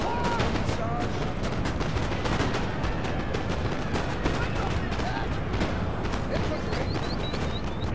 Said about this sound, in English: still a bit of artillery over there.